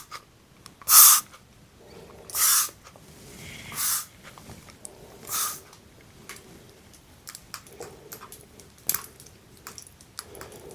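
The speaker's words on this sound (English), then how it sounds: "I'm going to use a little spray. I've diluted some lavender essential oils." A spray bottle of diluted lavender essential oil mist is pumped in a series of short, sharp hissing spritzes, several close bursts spaced a second or so apart, with softer rustling in between.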